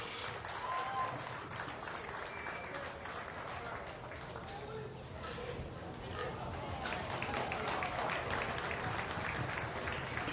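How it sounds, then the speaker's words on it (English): Spectators at a county fair swine show applaud the girls showing pigs, a moderate spread of clapping in a large, echoing barn, with talk and animal movement mixed in beneath. "let's give these girls a good round of applause"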